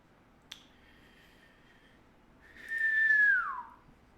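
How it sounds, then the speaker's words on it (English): A person whistles once in a short rising-then-falling tone, close and fairly loud, following a faint sustained tone and a small snap, with no talking. "Don't know why I just decided to whistle."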